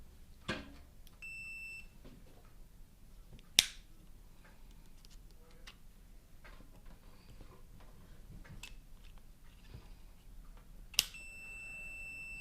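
A continuity tester on a repaired woodworking tool gives two brief, faint electronic beeps, one early and one near the end, separated by quiet handling clicks and taps.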